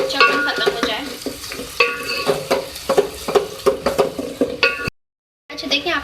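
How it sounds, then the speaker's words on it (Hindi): Ingredients sizzle and fry in a pan with oil while being stirred for beef aloo gosht, with repeated scraping and utensil knocks over a steady hiss, then a brief pause. "इसको फ्राई करेंगे अच्छी तरीके से ताकि इसका कच्चापन खत्म हो जाए"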